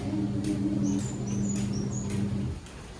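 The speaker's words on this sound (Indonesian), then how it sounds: "Manuk emas cucak rawon" Straw-headed bulbul (cucak rawon) singing with a few short, high whistled notes, close and moderately loud, over a steady low hum that stops near the end.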